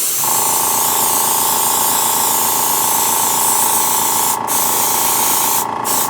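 A high volume, high velocity airbrush sprays paint onto a large Millennium Falcon replica model, giving a loud, steady, continuous hiss close by with a faint underlying hum.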